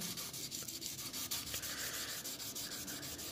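Razor blade's inner side rubbed flat on 2000-grit abrasive after being damaged by a file, a steady close scraping swish repeated in quick even strokes, quiet and continuous with no talk.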